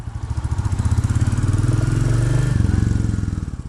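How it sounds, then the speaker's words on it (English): Royal Enfield Bullet 350 single-cylinder engine thumping steadily while riding out of a garage in Cambridge, a loud, close, even pulse that swells slightly and holds throughout, no voices. "in this video I am test riding the Royal Enfield Bullet 350"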